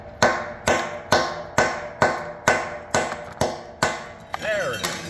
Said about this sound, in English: That's a hammer, isn't it?